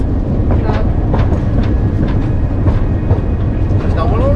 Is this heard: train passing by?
yes